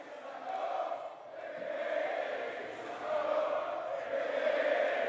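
A wrestling arena crowd in Newcastle roars and chants as fans rise to their feet, a dense, sustained wall of voices that swells and dips over several seconds, with a commentator's voice faintly beneath.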